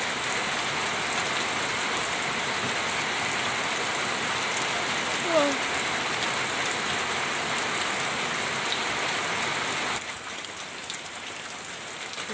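Steady, even rain falls continuously, a dense hiss of drops on surfaces close by that eases slightly near the end, with no talk.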